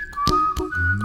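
A clear melodic whistle carries a short tune over a light bouncing vocal bass line and snapping percussion, from a 1988 song.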